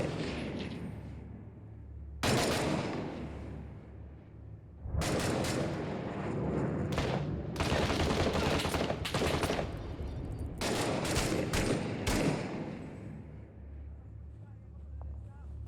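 Video game Six Days in Fallujah: heavy bursts of gunfire and grenade blasts in a combat scene, loud dense volleys in several waves with rumbling gaps between, someone talking over parts.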